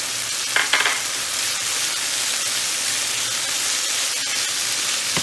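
Minced garlic sizzles in a pan with cooking beef as a bright, even hiss of frying that fills the clip, with a brief stirring scrape near the start, close up and steady.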